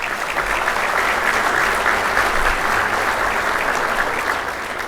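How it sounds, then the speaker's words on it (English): A luncheon audience at a city State of the City address breaks into sustained, dense applause, steady and full throughout with no pauses and no talking over it. "Let's give them a round of applause."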